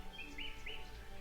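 Birds chirp in a forest in the game Beyond the Edge of Owlsgard, three quick high tweets in a row over a soft, steady ambient bed.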